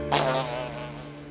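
A bee's insect buzz drones close and steady, swelling loud at the onset and then settling into a sustained hum with no voices.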